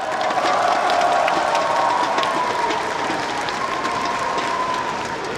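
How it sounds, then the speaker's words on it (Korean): Sustained applause from a party convention audience, honoring the two candidates who lost their bids for the supreme council seats; a dense, steady wash of clapping from a large crowd that fades slightly toward the end. "두 분 후보님께 위로와 격려의 박수를 보내주시기 바랍니다"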